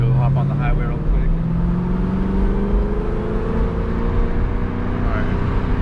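A 900HP+ Jeep Trackhawk heads onto the highway, its engine a steady loud interior drone with tones slowly rising and shifting under acceleration, while a voice talks over it.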